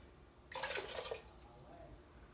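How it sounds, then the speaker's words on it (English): A cup of water poured into a pot of black-eyed pea soup, a short splashing gush lasting under a second and then trailing off into quiet. "you're going to add 1 cup of water"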